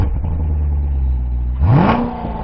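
Playback of a new Chevrolet Corvette Stingray engine, a steady loud idle drone that swells into a sharp rising rev partway through, then settles back.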